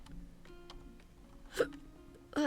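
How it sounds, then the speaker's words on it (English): A soft hiccup in a quiet room, two brief sharp bursts near the end, close and isolated against faint low background hum. "Hiccups."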